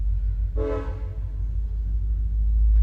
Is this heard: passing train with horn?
yes